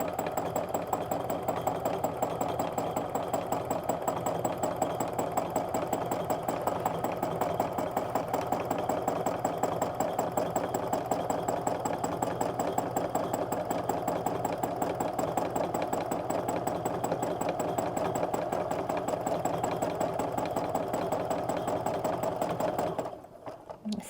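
A domestic sewing machine stitches a heart border on a quilt with a full line stencil, running in a steady, fast, even rhythm close by for over twenty seconds before stopping abruptly near the end.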